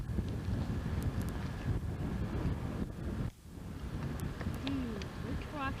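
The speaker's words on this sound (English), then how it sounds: "Rather windy out here." Wind gusts over an open Badlands overlook in Wyoming, buffeting the microphone with steady low rumble that briefly drops out midway, while faint birds chirp in the background.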